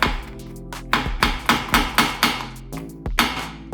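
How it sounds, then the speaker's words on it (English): Hammer blows finishing off a rivet on aluminium trim while a chrome surround and scraper are fitted to a T2 Bay cab window; about nine sharp, ringing metallic strikes land in an uneven rhythm, close and loud, with no talking. "we can just use a hammer"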